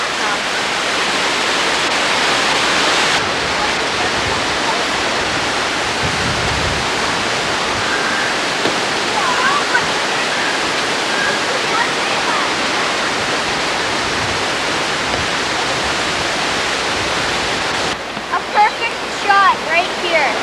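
A waterfall on a hiking trail near Owen Sound pours in a constant, dense rushing roar throughout, with faint voices briefly audible beneath the water toward the end.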